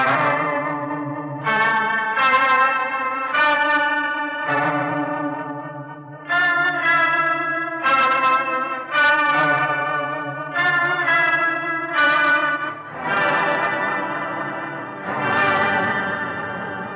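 Electric guitar chords played through a warbling, wavering delay effect, notes swelling and smearing into each other with a shimmering, modulated tail.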